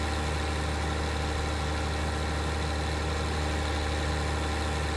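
Steady low drone of a tractor engine in the Farming Simulator 19 game, running continuously with an even, vibrating rumble and no voices over it.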